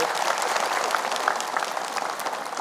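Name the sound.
applause from studio audience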